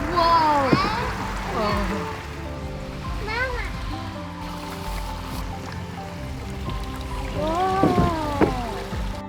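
Water runs and splashes steadily through a gem-mining sluice at a cave attraction, a continuous wash under the excited chatter and exclamations of children that rise and fall throughout.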